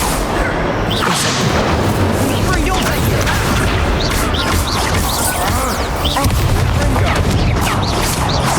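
Incendio fire spell cast during combat in Hogwarts Legacy, a loud sustained roar of bursting flame and booming impacts with whooshes and crackles, dense and continuous throughout.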